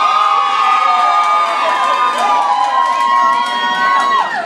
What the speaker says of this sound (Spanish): ¡Aplausos aquí para Michoacana!